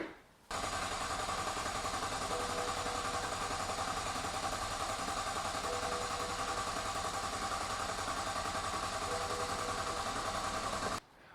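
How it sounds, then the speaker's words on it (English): A BMW 335i F30 with a frame-damaged body cranks steadily without catching, a continuous even whirring drone of the starter turning the engine over for about ten seconds, then cutting off. "It would crank over, but it wouldn't start."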